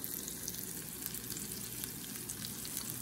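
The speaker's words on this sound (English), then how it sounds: "Love the sizzle." Flounder fillets sizzle and crackle steadily in olive oil in a frying pan, a dense, even frying hiss close by with no talking.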